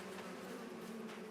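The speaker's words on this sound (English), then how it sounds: "Oh, buzzy bees." Bees buzz steadily on a small farm, a continuous close droning hum with no pauses for about a second.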